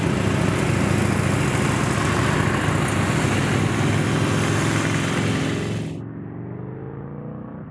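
A Triumph Scrambler 1200 XE and modified Harley Sportsters ride out together into hills, a loud, steady engine and wind roar that drops off abruptly near the end, leaving a quieter low rumble.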